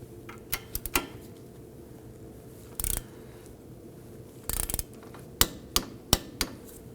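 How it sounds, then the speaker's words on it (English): A torque wrench tightening the ball joint pinch bolt on a 2008-2011 Ford Focus front suspension, heard as scattered sharp metallic clicks and a few short ratcheting bursts over a low steady hum. "Let's go ahead and torque it down to 46 foot-pounds."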